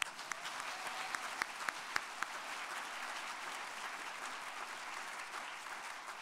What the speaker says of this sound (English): start with a round of applause for our narrators